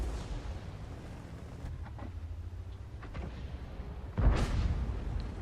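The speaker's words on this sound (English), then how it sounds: "So the heavy tank number 6 is now shooting down on them" A heavy tank fires its main gun in a World War II tank game, and a sudden deep boom punches in near the end above a low engine rumble and distant battle noise.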